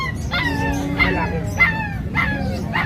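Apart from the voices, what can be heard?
Labrador puppies barking and whimpering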